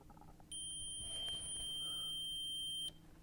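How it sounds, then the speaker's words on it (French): A multimeter set to continuity emits one steady high-pitched beep lasting about two seconds while probing a terminal on a car wiring connector of a Volkswagen Corrado 16V, in an otherwise quiet space. "j'ai branché mon voltmètre en continuité toujours. Et normalement, sur la borne 21, ça devrait biper."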